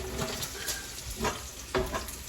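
Bacon frying in a cast iron pan, a soft steady sizzle with a few faint crackles and pops, quiet and close.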